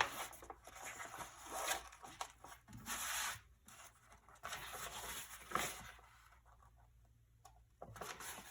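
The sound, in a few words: needle and heavy thread pulled through notebook pages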